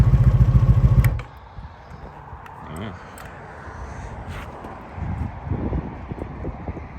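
A 1984 Honda Magna 700cc V4 motorcycle engine gives a loud, throbbing run for about a second, then cuts away to quieter rustling and low clatter.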